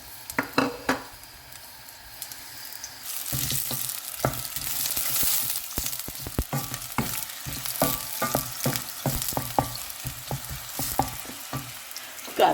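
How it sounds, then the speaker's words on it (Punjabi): Onions dropped into heated oil in a home kitchen pan, frying with a steady loud sizzle and crackle throughout, broken by frequent sharp clicks and scrapes of a utensil stirring against the pan. "ਆਇਲ ਥੋੜਾ ਗਰਮ ਹੋ ਗਿਆ ਹੈ, ਇਹਦੇ ਵਿੱਚ ਅਸੀਂ ਪਾ ਦੇਵਾਂਗੇ ਪਿਆਜ਼।"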